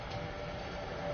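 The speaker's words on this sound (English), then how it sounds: "I think that's a train off of a zombies map or something." A video-game train from a zombies map rumbles on steadily, a broad continuous rolling noise with a faint sustained tone running through it, loud and unbroken from start to finish.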